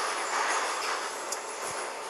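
A Minsk metro 81-717 train rushes through a tunnel between stations, a dense continuous roar of wheels and rails with a faint squeal, heard from inside the carriage.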